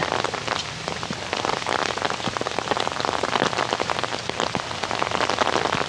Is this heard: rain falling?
yes